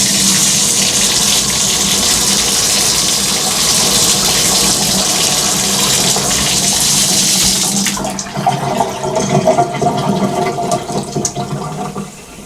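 Rushing water gushes loudly and steadily through a sink drain, then gives way to gurgling, sputtering sloshes as it drains out.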